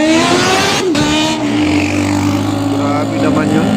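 A motorcycle revs and sweeps past close by on a cold night at the Esplanade along the Pasig River, its engine note rising then falling, loud, with someone talking over it.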